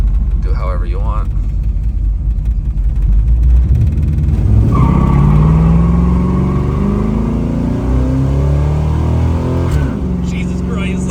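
A Camaro with a roughly 100 hp upgrade makes a hard second-gear pull: after a lower idle, the engine note climbs sharply and loudly from midway, revving up steadily before easing near the end.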